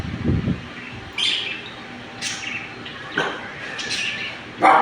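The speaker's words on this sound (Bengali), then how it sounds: "পাখি দেখি কিচিরমিচির করতেছে।" Birds chirping outdoors, a few separate short tweets and calls at moderate distance over a quiet background, with a brief low thump at the start and no speech.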